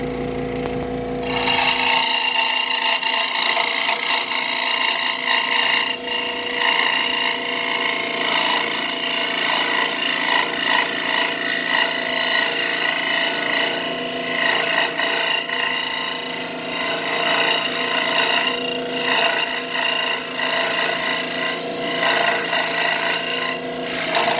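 A scroll saw cuts a tight curve in wood with a continuous buzzing, rasping drone after a brief quiet start, loud and close and sustained without pause.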